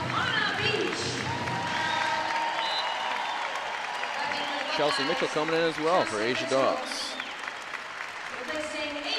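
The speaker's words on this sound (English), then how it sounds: "a lot of the fans clapping" Basketball fans clap and murmur throughout an Ohio State vs Illinois game, a steady crowd bed running under a commentator's continuous play-by-play.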